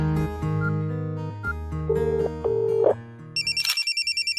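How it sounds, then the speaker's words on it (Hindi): A phone rings with a high warbling electronic trill in quick repeated pulses, entering after a stretch of louder background music and tones. "ये फोन ला नहीं उठाते गोपी हा।"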